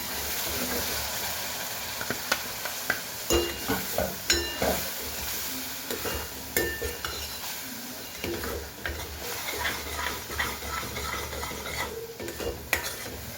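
Tomato puree fries in a pan for chole, with a soft, steady sizzle under repeated spoon scrapes and clinks against the pan as it is stirred.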